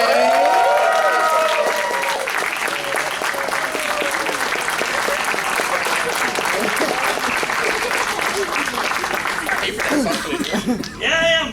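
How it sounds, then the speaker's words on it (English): A convention crowd at a furry convention stage show gives loud, sustained applause mixed with cheering and laughter, filling the room without pause for about ten seconds. "So everyone, please give a round of applause for Alkali!"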